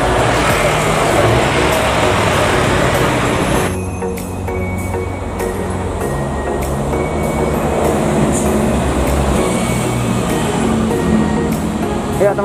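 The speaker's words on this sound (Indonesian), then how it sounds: "bis Haryanto yang baru sudah mulai datang keluar dari exit tol Bambu Apus" A new Po Haryanto bus, fresh from the coachbuilder, comes off the Bambu Apus toll exit amid loud, continuous heavy-vehicle and traffic roar with a rumbling low drone, recorded close by.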